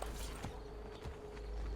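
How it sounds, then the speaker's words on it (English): Horse hooves clip-clop in Assassin's Creed: Brotherhood as a horse is ridden into a villa, quiet steady hoofbeats with faint creaks, no talk. "We can ride our horse into the villa!"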